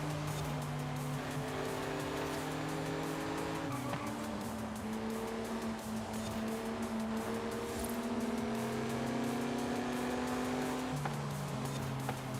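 A car engine in Forza Horizon 5 revs steadily at close range, its pitch climbing and dropping through gear shifts, with some tire noise and no talking over it.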